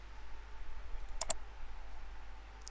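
Two quick computer mouse clicks sound close together, crisp and faint, over a quiet hum.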